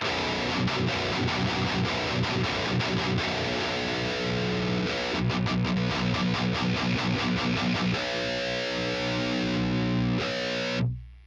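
Heavily distorted electric guitar through a Deadweald Audio Engineering Duality Drive pedal, playing chunky, sustained riffs with thick low-end, loud and continuous, ending with a brief cut-off.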